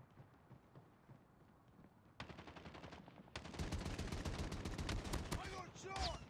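Gunfire in the Call of Duty video game: faint early shots, then loud rapid automatic bursts that grow denser and heavier toward the end.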